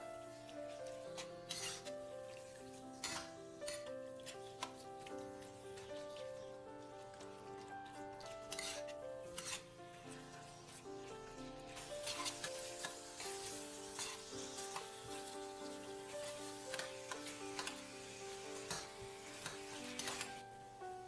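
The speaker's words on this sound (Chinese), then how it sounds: "现在把腌好的瘦肉丝也倒进锅里，不停地翻炒" Marinated shredded lean pork is stir-fried in a wok over medium heat for a Sichuan dry-fried dish: a soft sizzle runs throughout, with repeated scraping strokes of a spatula and light taps against the wok.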